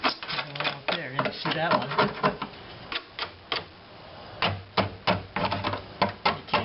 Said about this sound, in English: Get through there, scrape it off.